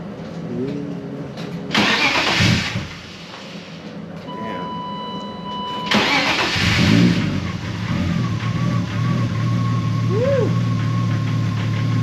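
A BMW E36 fitted with an M50 intake manifold cranks and fires, then idles and revs as it backs out of a garage, the engine close and steady, with brief chirps and talking in the background.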